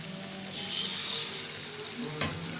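Battered topse fish fries dropped one by one into hot oil, setting off a loud rising sizzle that swells, eases, then flares again with a sharp splash-like crackle.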